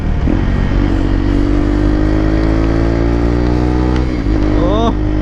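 A motorcycle engine drones steadily at high revs under hard engine braking, its pitch sliding slowly, then rising in quick revving sweeps near the end; a voice seems to talk faintly underneath.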